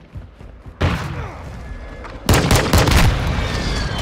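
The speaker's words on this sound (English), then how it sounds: "friendly precision airstrike inbound" Precision airstrike explosions hit in Call of Duty: Modern Warfare II, with a first loud blast followed by a heavier cluster of booms and rumbling impacts close by, all without speech.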